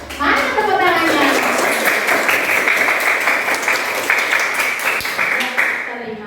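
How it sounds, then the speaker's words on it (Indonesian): A class of schoolchildren claps hands together in a classroom, a loud, close burst of rapid clapping that carries on for several seconds while children's voices chatter over it. "Mana tepuk tangannya?"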